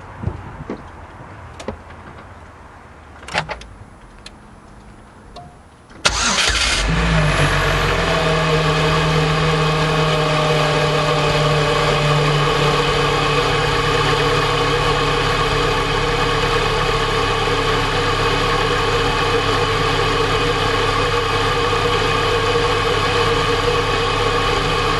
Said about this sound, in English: cold start, if you will, so you get to hear what the air pump sounds like